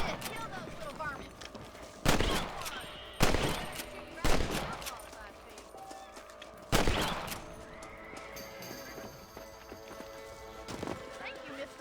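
Rifle shots fire at rabbits in the Red Dead Redemption video game, about five loud, sharp cracks spaced a second or more apart, with horse sounds and faint ambient game noise between them.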